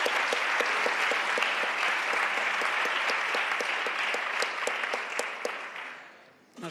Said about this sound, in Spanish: Nos gusta aplaudir aquí en España.